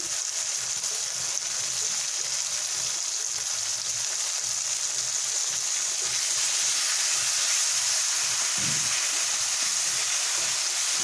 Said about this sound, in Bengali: টমেটোটা যতক্ষণ না গলে ততক্ষণ আমি টমেটোটাকে ভালো করে তেলে কষে নেব বা ভেজে নেব